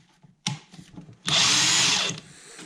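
A DeWalt 20V three-speed impact wrench gives a short whir, then a loud, close burst of running lasting under a second.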